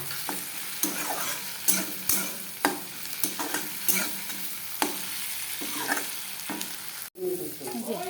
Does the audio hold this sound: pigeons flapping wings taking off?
no